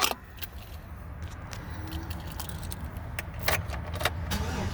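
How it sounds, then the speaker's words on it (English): A 2012 Chevrolet Silverado Double Cab Z71 pickup runs with a low, steady engine rumble, with light clicks and key jangles over it nearby. "I'm going to start her up so you can hear the truck a little bit."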